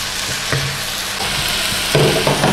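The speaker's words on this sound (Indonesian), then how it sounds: "Ini kol sama daun bawangnya gue masukin ya." Cabbage and spring onion hit a hot pan for beef yaki udon, producing a loud, continuous sizzle with occasional scrapes and tosses of a utensil stirring the vegetables close up.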